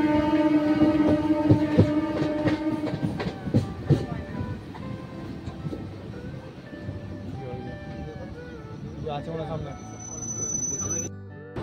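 Purulia to Howrah passenger train crossing the Damodar river bridge, a loud rumbling ride with rhythmic rail clatter that eases over time, a voice talking through it.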